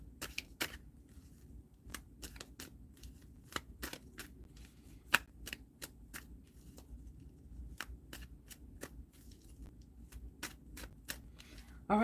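Tarot cards are shuffled up close, a quiet run of crisp, evenly spaced card snaps and flicks over a soft background hum.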